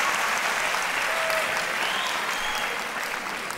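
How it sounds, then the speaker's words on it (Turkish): Studio audience on the Turkish talent show Yetenek Sizsiniz Türkiye gives loud, sustained applause after a barista act, a dense even wash of clapping that fades slightly at the very end. "Seni tebrik ediyoruz ve alkışlarla uğurluyoruz."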